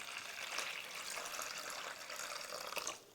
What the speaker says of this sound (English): I'm going to add to the basin some water